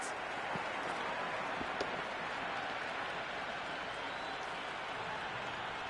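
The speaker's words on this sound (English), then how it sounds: "It's evident and ever so audible that the crowd is at near bursting point at today's play." A packed cricket stadium crowd at an IPL T20 match between KKR and BC roars steadily in a dense, continuous wash of cheering and clapping that stays loud throughout.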